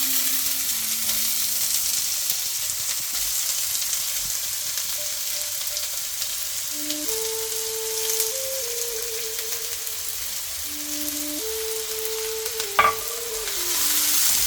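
Chopped onions frying in olive oil in a pan, giving a continuous soft sizzle and crackle, close and fairly quiet, with brief faint clinks from the pan or utensil.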